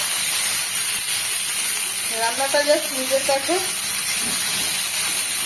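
Eggplant sizzling as it fries in a pan of oil over a low flame, a steady loud hiss with brief crackles, while someone talks over it.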